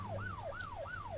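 Wailing police car siren from the mobile game Police Sim 2022, rising and falling in three quick repeating sweeps, steady and moderately loud with no talk over it.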